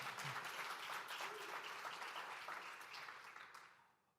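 An audience in a talk-show studio claps for a guest, a moderate and fairly quiet burst of applause that fades out toward the end.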